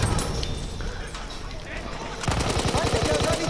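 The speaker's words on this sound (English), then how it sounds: "someone's shooting from behind us" Rapid automatic gunfire in a team shooter video game, dense bursts that sharpen into a fast, loud rhythmic stream of shots in the second half, with players talking over it.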